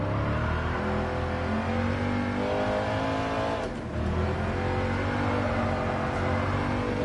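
A Mercedes-AMG Black Series cruising on the Nürburgring, its engine holding a steady, loud drone with layered harmonics and a brief dip in pitch and level midway, heard close and continuous from inside the car.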